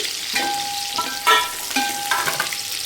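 Broad beans drop into a pan of lightly fried onions, setting off a loud, close sizzle with bursts of stirring and scraping.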